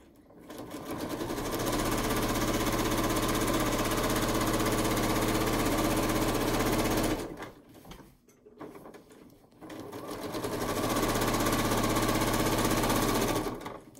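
A sewing machine stitches quilt-as-you-go rows of a barn quilt with a fast, steady mechanical chatter, close and loud, running for about seven seconds, pausing briefly, then running again.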